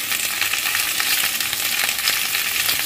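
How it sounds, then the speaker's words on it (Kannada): Chopped capsicum sizzles steadily in oil in a pan over a gas flame, a dense continuous hiss and crackle with small stirring clicks, fairly loud and with no voices. "2 ಸ್ಪೂನ್ ಎಣ್ಣೆ ಹಾಕಿ ಒಂದು ಸ್ವಲ್ಪ ಫ್ರೈ ಮಾಡಿಟ್ಕೊಳ್ತೀನಿ"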